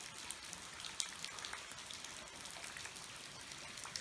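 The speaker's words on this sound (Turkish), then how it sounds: "Yağmur bereket olur belki bugün." Steady rain patters on a surface by the Sakarya River, a dense hiss of drops with occasional sharper taps, moderately close and continuous.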